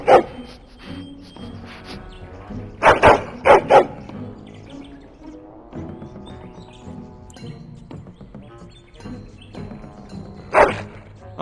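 A hound barks in the Dragon Age video game, a few loud sharp barks in short clusters over a steady musical score, with no talking.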